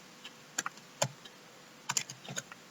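Computer keyboard typing in short irregular bursts of a few crisp key clicks each, separated by pauses, close and fairly quiet with no voices.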